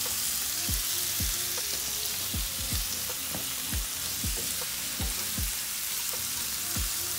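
Tortellini pasta sizzles in a pan, a dense hissing fry with a series of low thumps and scrapes as pieces are stirred, close and steady throughout with no talk.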